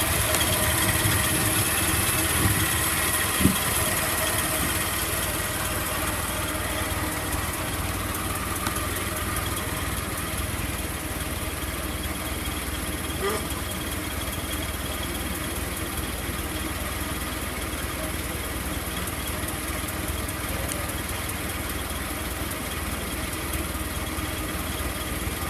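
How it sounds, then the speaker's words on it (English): A 1917 Model T Ford engine idles steadily and close by, a continuous rumbling drone that holds level for the whole stretch with no revving or pauses. "Driving a 1917 Model T Ford."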